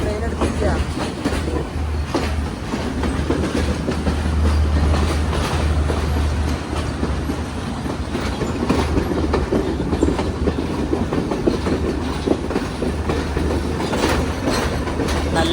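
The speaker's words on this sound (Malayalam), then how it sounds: "മറഡാണ സ്റ്റേഷൻ ഇതാ ട്രെയിൻ എടുത്തിരിക്കുകയാണ്." The Galu Kumari Express runs along Sri Lanka's coastal line between Colombo and Galle, heard from inside a first-class carriage as a continuous loud rumble with a rhythmic clickety-clack of the wheels on the rails.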